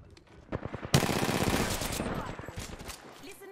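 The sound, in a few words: gunfire hitting the player in Apex Legends video game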